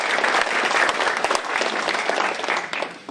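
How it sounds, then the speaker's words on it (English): A seated audience at an evening talk on prostate cancer bursts into sustained applause, dense steady clapping filling the room at close range without speech. "I think that deserves a round of applause"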